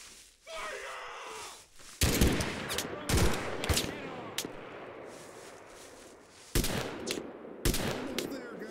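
Gunfire in the video game Mud and Blood: several loud, sharp bursts of shots and volleys spread across the scene over a steady battlefield background, with brief vocal grunts mixed in.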